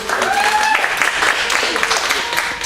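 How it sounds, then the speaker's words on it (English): A class claps for itself after a singing scale exercise, a short burst of applause with voices chattering and calling out over it. "Give yourselves a round of applause"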